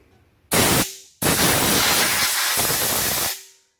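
Compressed air bursts from a nozzle in two loud hissing blasts, a short one followed by a longer sustained one, blowing debris out from behind a car brake rotor.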